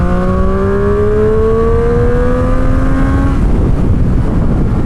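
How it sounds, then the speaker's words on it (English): A 2019 Triumph Street Triple R triple-cylinder motorcycle engine revs up loudly and close, its pitch climbing steadily for about three seconds before cutting off into a rougher idle rumble with road noise. "Rev it out here a little for you guys."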